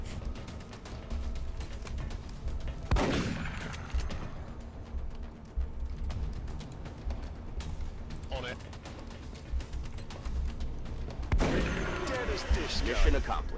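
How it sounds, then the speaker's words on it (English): Heavy video game gunfire and artillery fire in a combat zone, with continuous rumbling blasts and bursts throughout and louder impacts near the start and end, under low voices. "There's heavy fire in this zone."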